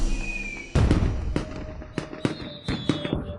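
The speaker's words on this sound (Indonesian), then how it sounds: "Kenapa ada orang yang menyalakan kembang api di ibu kota?" Fireworks crack and pop over the capital for a family wedding celebration, a loud burst followed by a string of sharp bangs and crackles at irregular intervals.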